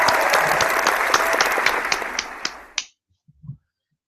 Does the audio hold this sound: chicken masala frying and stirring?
no